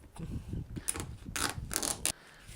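A barcode sticker label printer works in short mechanical bursts, with faint whirring, ticking feed sounds and a few sharper clicks, close and quiet.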